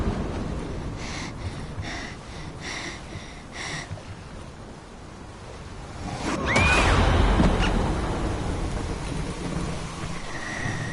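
Steady rain pours in King's Quest, a PS4 video game, and a loud rumbling thunderclap swells midway before fading back into continuous rainfall.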